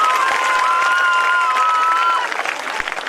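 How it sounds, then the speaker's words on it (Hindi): Loud, sustained applause and cheering from the audience at a government senior secondary school's annual function, with some whistles and crowd noise mixed in, thinning slightly toward the end. "तो एक बार जोरदार तालियां।"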